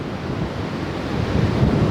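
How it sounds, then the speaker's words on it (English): Steady wind buffets the microphone, a continuous low roar with gusts swelling slightly louder, like breezy open air near the sea, near Boracay in the Philippines. "Still windy."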